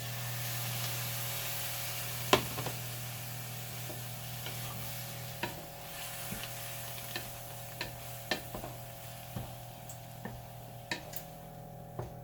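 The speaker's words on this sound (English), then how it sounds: "Now I'm going to stir in a little over a half a cup of beef broth." Beef broth is stirred into tomato paste in a pan, a soft continuous sizzle broken by a dozen scattered light clicks and scrapes of the utensil against the pan, quiet and close, with no one talking.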